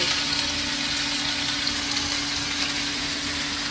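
Vegetables frying in a pan in a home kitchen, giving a steady, dense hiss and sizzle that holds evenly throughout, close and moderately loud.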